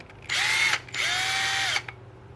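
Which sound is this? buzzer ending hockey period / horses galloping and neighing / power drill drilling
power drill drilling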